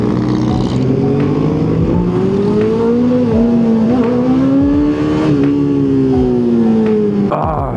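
A motorcycle engine hums steadily while riding, its drone rising and falling in pitch with speed changes, loud and close throughout with no talk.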